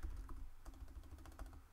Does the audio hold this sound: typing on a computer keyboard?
yes